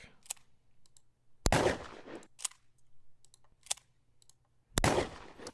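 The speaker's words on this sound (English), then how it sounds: "This 12 gauge shotgun. Let me play it for you real quick." A 12 gauge shotgun fires in a multiple-mono master library recording: several sharp, loud blasts spaced a second or more apart, each with a short decaying tail, separated by quiet gaps and faint clicks.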